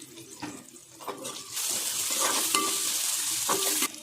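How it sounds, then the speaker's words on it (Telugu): Ginger garlic paste frying in a pan with curry leaves, mint and coriander, a steady close sizzle broken by stirring scrapes and a few brief watery clinks, with no talking. "అల్లం వెల్లుల్లి పేస్ట్ పచ్చివాసన పోయే వరకు వేయించుకున్న తర్వాత"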